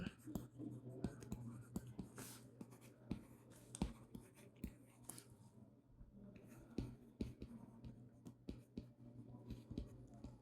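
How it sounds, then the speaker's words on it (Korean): A pen or pencil writes an equation by hand, very close and faint. Irregular scratchy strokes and taps follow one another over about ten seconds with brief pauses, and soft breathy noise sits in the background. "이렇게 일단 식을 써볼게요"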